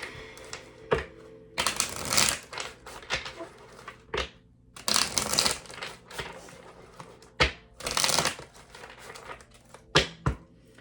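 Tarot cards are shuffled by hand in several close bursts of riffling and flapping, separated by short pauses and sharp taps, with no voices.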